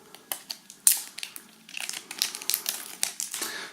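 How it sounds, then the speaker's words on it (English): Packaging being unwrapped from the power cable of an Apple AirPort Extreme 6th generation router: close, irregular crinkling and crushing of wrapping, with sharp rustles that quicken into a dense run of crackles partway through. "unwrap this cable"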